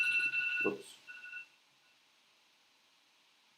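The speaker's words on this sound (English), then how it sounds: "I don't know why that went off. My phone alarm." A smartphone alarm timer going off indoors, a short run of bright electronic beeps that stops within a second, followed by a brief spoken exclamation and then near silence.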